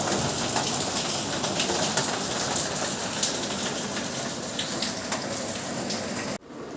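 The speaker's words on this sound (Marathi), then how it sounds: "बाहेर पाऊस येतोय हे बघा तुम्हाला दाखवतो" Steady rain falls outside, a dense even hiss of drops pattering on surfaces that runs loud and unbroken before cutting off abruptly near the end; no talking.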